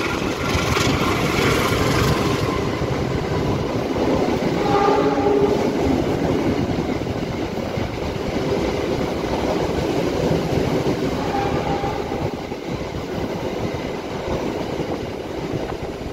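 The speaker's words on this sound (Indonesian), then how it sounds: "Di bawahnya ini lewat kereta api jarak jauh ya." A long-distance train rumbles and clatters through, passing beneath a high-speed rail station at Padalarang; loud, steady rolling noise with wheel clatter fills the whole span, without speech.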